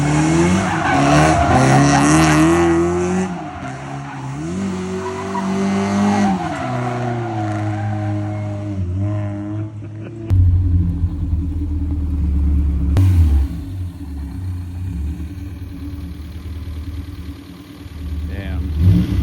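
A Mazda Miata's tires squeal in long, loud skidding wails as the engine revs hard, then the car pulls off with a sharp burst of acceleration and fades, with people talking briefly.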